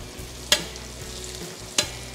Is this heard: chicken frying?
yes